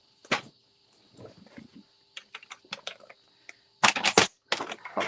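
Thick white cardstock is cut for a card base with a series of short, sharp close snips and crisp rustles separated by quiet pauses.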